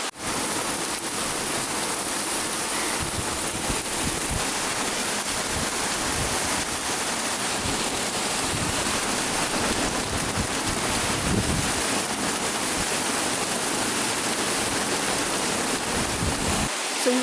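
Heavy monsoon rain pours down in a Mumbai balcony garden, a loud, dense, continuous roar of water with gusts of wind across the microphone, unbroken for the whole stretch.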